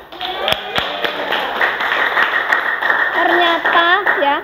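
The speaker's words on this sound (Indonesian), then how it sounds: "Tepuk tangan untuk kalian semua" Students and audience applaud at a teacher-performance assessment session, a steady wash of clapping with a few sharp individual claps near the start, while voices talk over it toward the end.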